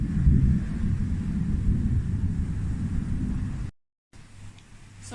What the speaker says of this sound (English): and very stormy.